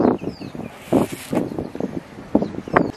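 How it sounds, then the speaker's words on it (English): Gusty wind buffets the microphone on a boardwalk through Australian mangroves, with uneven low rumbling bursts that rise and fall in close, loud puffs for about three seconds. "I hope you can hear me and that there's not too much wind"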